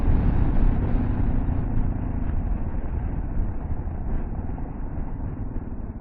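A Kawasaki KLR650 motorcycle runs fast along a gravel dirt road, its engine a steady, loud rumble mixed with wind roar that eases slightly as the ride goes on.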